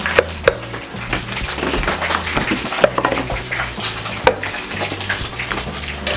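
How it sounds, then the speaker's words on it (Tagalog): A batch of crabs (kasag) deep-frying in oil for crispy crabs, bubbling and crackling steadily up close, with occasional sharp clanks and scrapes of a utensil against the pan and no voice. "ito na po ang ating third batch ng ating crispy crabs na lulutuin."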